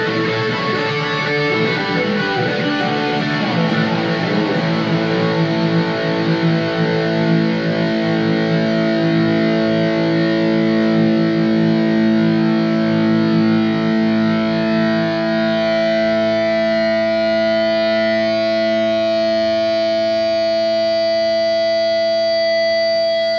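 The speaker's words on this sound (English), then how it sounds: "starting with the bridge position in the noisy or distorted setting" A Gibson Les Paul Studio electric guitar from 2004 played on the bridge pickup through heavy distortion rings out loud sustained chords and notes that slowly decay over some twenty seconds, with no talking.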